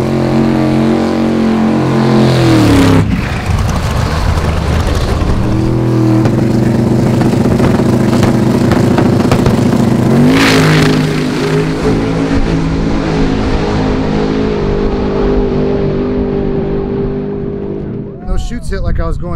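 A 3000-horsepower Camaro drag street car roars loudly and close with shifting engine pitch, rising and falling revs through the run, then the tone drops as it shuts down, with a voice talking over the noise.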